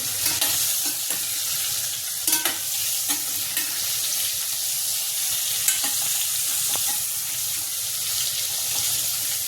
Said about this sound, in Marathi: त्याला परतून घेऊ व्यवस्थित, मिक्स करून घेऊ त्याला